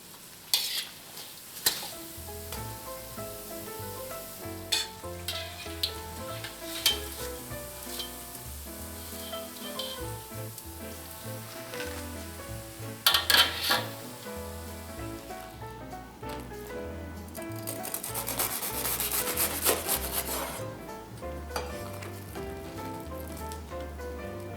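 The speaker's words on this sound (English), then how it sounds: "Heat oil in the pan, stick a wooden spoon, and if it sizzles, that means your oil is ready. Fry your bread until golden brown" Bread fries in hot oil in a pan, a continuous soft sizzle and crackle with scattered sharp pops and occasional louder spatters from turning or stirring, heard up close alongside gentle background music and no talking.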